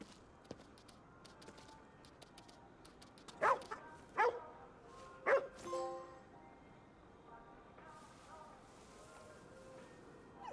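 A dog barks in the video game Ghostwire: Tokyo, three or four sharp, fairly close barks spaced a second or so apart over quiet ambient background.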